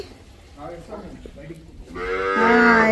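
A calf on a farm moos loudly and close by, a long drawn-out call rising at the end, following a stretch of quieter sounds that may include low talk.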